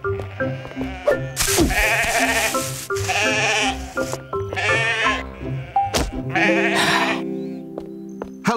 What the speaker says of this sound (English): Come back here, you silly sheep.